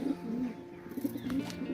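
Low pigeon coos repeat in a soft, throaty rhythm nearby, a few drawn-out calls following one another with quiet background noise.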